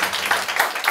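A short burst of encouraging applause from the audience at a youth lecture, with the clapping steady and close for about a second.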